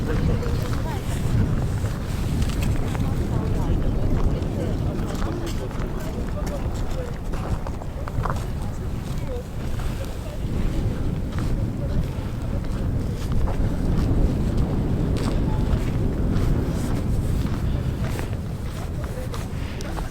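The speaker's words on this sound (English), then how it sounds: "The wind has picked up some." Strong wind buffeting at the Alyosha monument in Murmansk, a continuous loud rumbling roar across the microphone, with a person talking over it.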